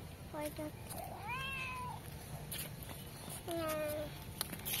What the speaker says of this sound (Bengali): বিড়ালটা মনে হচ্ছে কারো পোষা বিড়াল